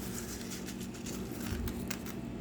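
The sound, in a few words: ice pellets falling like rain in Riyadh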